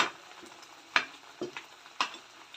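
A Kerala-style dry fish curry simmers in a pan, giving faint scattered bubbling pops and light sizzling, with a few sharper pops about once every half second.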